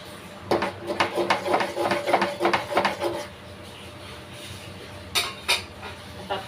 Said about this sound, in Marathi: लाटण्याने हटवून पळीने करून